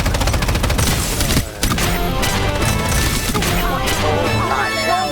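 Rapid bursts of gunfire in the video game Strinova, dense and loud with crashes and impacts layered over music and game effects, nearly continuous with a brief dip.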